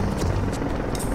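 A helicopter in the game Project IGI drones steadily, its rotor thrum dense and low, filling a brief moment without pause.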